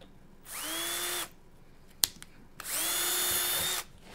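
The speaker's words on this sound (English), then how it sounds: "So let's drill some holes." A power drill whirs up twice in quick succession, drilling holes in wood, each run lasting under a second, with a short sharp knock between the two bursts.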